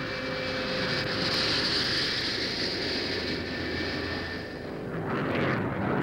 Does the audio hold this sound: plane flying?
yes